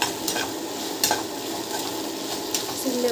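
Okra stir-fry sizzles in a pan as a utensil stirs and scrapes it, a close steady frying crackle with occasional light metal clinks.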